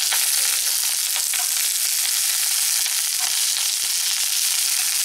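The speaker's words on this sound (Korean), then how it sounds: "요거 한번 볶아서 먹어보지요" Washed, cut kalettes (kale sprouts) stir-frying in a pan, a loud continuous sizzle with crackling spits throughout, close up and with no talking.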